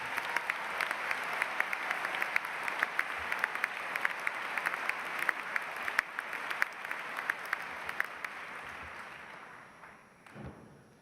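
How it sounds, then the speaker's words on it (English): Graduates and guests at a WashU McKelvey engineering bachelor's and master's commencement ceremony applaud steadily in a large hall, a dense sustained wash of clapping with sharp individual claps poking through before it tapers off at the end. "give yourselves a round of applause acknowledging that effort"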